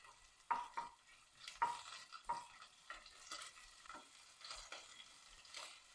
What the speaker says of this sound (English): chicken fat is nicely sizzling away